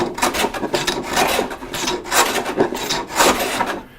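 A hand plane rasps across wood, stuttering and skipping over a high spot in the middle of a board, giving uneven bursts of scraping strokes close by with no talk.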